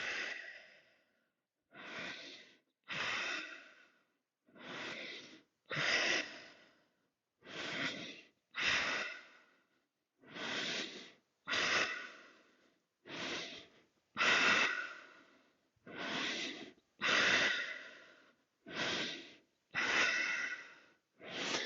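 Deep yoga breathing, slow audible inhales and exhales alternating in a steady rhythm, about fifteen close, breathy airy pulses with short quiet gaps between them.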